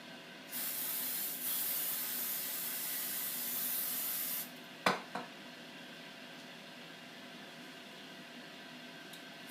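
Cooking spray hisses in one steady burst of about four seconds onto the underside of a Ninja Foodi grill's cooking plate, followed by a couple of brief knocks and then quiet.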